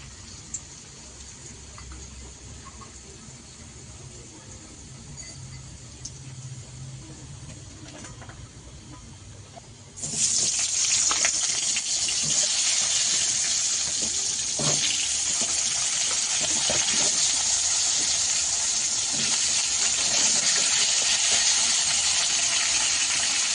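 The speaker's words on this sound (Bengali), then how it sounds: "এবার আমি তেল দেব তেল দিয়ে আলুগুলো ছেড়ে দেবো" Potatoes dropped into hot oil for a fish curry, starting with quiet kitchen background and then a sudden loud, steady sizzle that fills the rest of the time alone.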